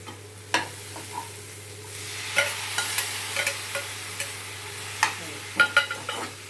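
Dried fish curry with chillies stirred in a pan, giving a faint sizzle under irregular scrapes and knocks of the spoon, close up and with no voices.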